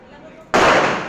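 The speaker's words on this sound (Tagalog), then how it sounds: "Kasi slide action itong baril, kada pumuputok siya, bumabalik." A slide-action gun fires one sharp, loud shot after a quiet stretch, and the blast rings out and slowly fades.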